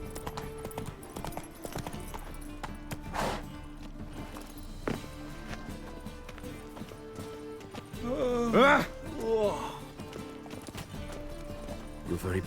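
Horse hooves clip-clopping at a steady walking rhythm in a medieval-style video game, sitting under a busy game soundtrack, with a brief loud burst of other game sound partway through.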